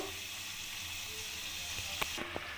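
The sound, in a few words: kucho nimki frying in hot oil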